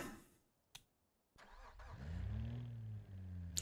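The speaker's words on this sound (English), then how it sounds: "it definitely sounds like a V6" A V6 sports sedan engine in the BeamNG driving game cranks and fires, then settles into a steady, loud low idle that holds to the end, with a few clicks and sharp taps before it starts.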